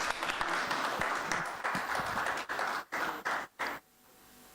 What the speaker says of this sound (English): Maybe a round of applause for the panelists as well.